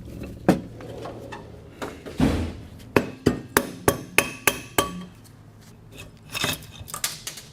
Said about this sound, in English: Need my tiny hammer.